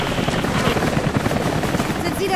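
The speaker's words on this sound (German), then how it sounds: "Jetzt kommt noch dieser dämliche Helikopter." Helicopter in the video game Rise of the Tomb Raider, a steady rapid rotor chop running throughout with in-game gunfire and combat noise layered over it.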